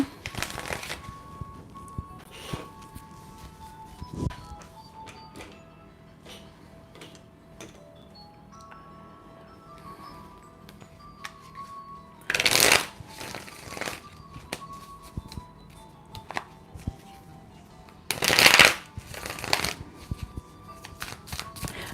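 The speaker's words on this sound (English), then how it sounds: "We'll have a good shuffle on this one." Tarot cards being shuffled by hand during a live reading, giving soft riffling and tapping across the span with two louder bursts of shuffling, quiet and close.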